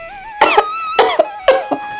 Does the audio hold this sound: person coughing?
yes